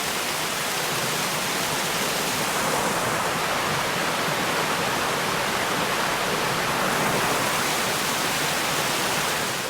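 Water rushes in a stream near Little Bird Falls by a mountain roadside, producing a dense, steady, unbroken roar that stays loud and even from start to finish with no voices.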